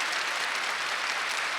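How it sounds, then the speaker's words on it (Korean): A church congregation at a Sunday worship service claps loudly and fast, a dense, even roar of many hands that stays at full strength the whole time, with no voices. "박수 좀 세게 쳐봐요."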